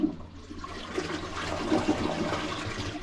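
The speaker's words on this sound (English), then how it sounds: "Flush it, see how it feels." A toilet that was just unblocked flushes in a steady, close rush of draining water, with no voices over it.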